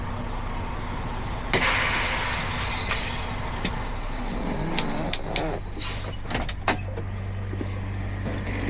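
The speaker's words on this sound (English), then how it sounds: "You can hear they got the reefer unit running." A refrigeration unit on a trailer loaded with beer runs at a brewery with a steady low mechanical drone under faint traffic, clanks and brief air hisses around a parked truck.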